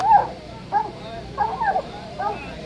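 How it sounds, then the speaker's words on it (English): Dogs barking at a target during a timed possum trot barking contest at a festival in Pinewood, South Carolina, several short barks and yips at a moderate distance over crowd murmur. "each dog gets 1 minute to bark at the target"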